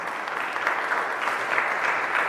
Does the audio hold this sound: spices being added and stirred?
no